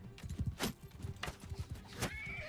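Video game horse sounds for a mounted horse archer: close hoof clops in quick rhythm with brief snorting and whinny-like bursts, fairly quiet overall.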